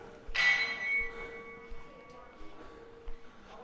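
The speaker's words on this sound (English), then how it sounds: "the young children that just rang the bell" Young children in Thailand strike a bell once, giving a single clear ring that decays slowly over a few seconds, with soft background sounds and faint thuds under the fading tone.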